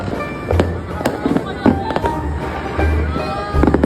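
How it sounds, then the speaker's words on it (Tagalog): New Year fireworks burst all around a rooftop in a rapid, irregular run of sharp bangs and crackles, some close and some distant, under low booms, with people talking faintly in the background. "Umakyat kami sa rooftop para manood ng mga fireworks sa paligid."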